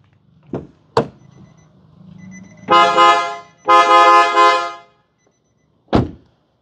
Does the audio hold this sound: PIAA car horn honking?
yes